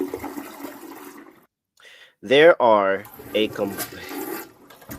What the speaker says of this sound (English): Courtesy flush.